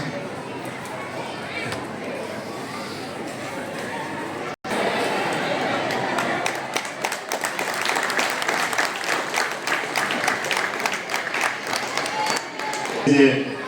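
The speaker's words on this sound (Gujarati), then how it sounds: "એકવાર જોરદાર તાળીઓથી વધાવો." An audience applauds loudly at a Gujarati stage event, with dense sustained clapping and crowd chatter after a brief drop, swelling toward the end.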